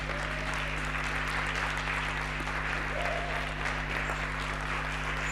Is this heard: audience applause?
yes